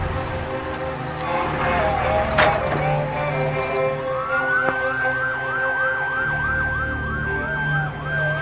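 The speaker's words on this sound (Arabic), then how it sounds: "الإسعاف جاء ورقية هزوها للسبيطار" An ambulance siren wails in a rising and falling pattern, growing clear over the second half with steady repeating sweeps amid background noise and some voices.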